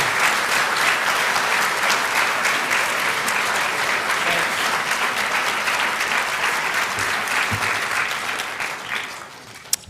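A lecture audience at Hillsdale College claps warmly for Dr. Arthur Herman, with steady, dense applause that holds for several seconds before tapering off at the end.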